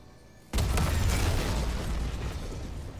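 A loud explosion detonates in the video game Dead Space, bursting suddenly after a quiet moment into a deep, roaring blast that rumbles on and slowly fades.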